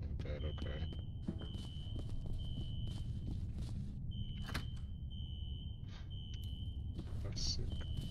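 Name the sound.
fire alarm ringing in the video game F.E.A.R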